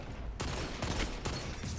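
A hand cannon fires in the Destiny 2 video game: two sharp, loud shots about a second apart, each followed by a booming echoing tail, with no speech.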